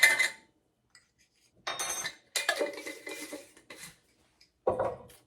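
A dry mix of flour, lemon pepper and onion powder for gluten-free chicken tenders is stirred in a bowl: intermittent close clinks and scrapes of a utensil against the bowl, separated by brief silences.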